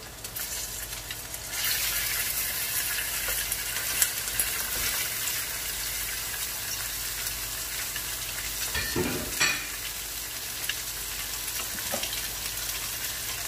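Pork belly for Bicol Express frying in a pan, a steady bright sizzle that swells once it hits the oil and stays loud and close, with a few stirring scrapes and no talking.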